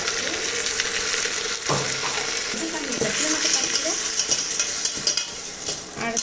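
Chicken curry is stirred in a pot. A spoon scrapes and clatters against the metal over a continuous sizzle, and a voice is heard faintly at times.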